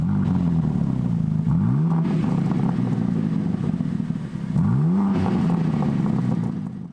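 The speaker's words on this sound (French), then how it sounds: "ça améliore surtout la sonorité de l'échappement, qui est beaucoup plus expressive que sur une M4 compétition standard" BMW M4 CSL with titanium exhaust: a steady close engine drone with two quick revs that rise and fall a few seconds apart.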